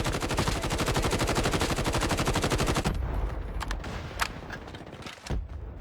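Rapid automatic gunfire in an online shooter game, a loud fast burst of evenly spaced shots for about three seconds, then a few scattered single shots and mechanical clicks.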